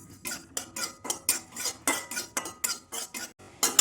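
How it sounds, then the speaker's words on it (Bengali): Whole cumin seeds roasting in a pan as a utensil stirs and scrapes them, making quick, rhythmic metallic clinks and scrapes in about a dozen close bursts with brief quiet gaps. "কচুরির জন্য আমি এখানে একটু জিরে ভেজে নেব"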